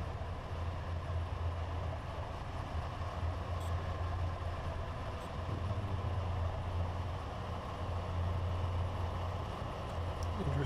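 An EU08 electric locomotive in the SimRail train simulator slows under heavy braking toward a red signal, giving a steady, continuous low rumble and hum with faint higher hiss throughout.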